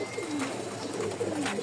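Pigeons coo repeatedly in low, rolling calls, several overlapping birds close by in a loft of Rajshahi flying pigeons kept as breeding pairs, with no talk over them.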